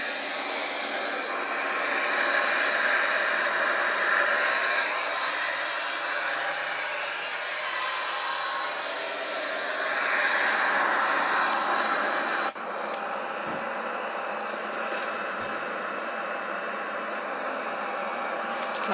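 Jet engines of an El Al Boeing 737-800 in Microsoft Flight Simulator X give a steady, loud broadband roar with no talk; the tone shifts abruptly partway through, then continues slightly duller.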